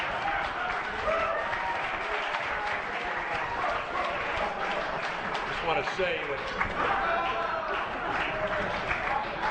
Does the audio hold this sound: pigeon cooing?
no